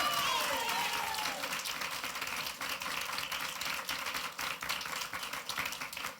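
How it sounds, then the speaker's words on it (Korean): A church congregation at a Sunday morning worship service applauds in a sustained, dense round of clapping that gradually softens, with voices faintly mixed in. "우리 하나님께 박수로 영광 돌리겠습니다."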